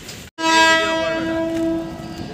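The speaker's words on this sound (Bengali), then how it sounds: "এই হচ্ছে আমাদের ট্রেন চলে আসছে ময়নাগুড়ি স্টেশনে" A train pulls into Maynaguri station, its horn sounding one loud, long, steady blast close by after a brief cut, then fading slightly at the end.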